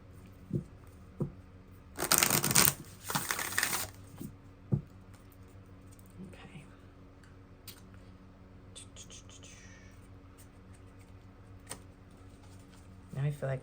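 Tarot cards shuffled on a lap, two dense bursts of rapid riffling and pattering close up, followed by scattered soft taps and rustles in a quiet room.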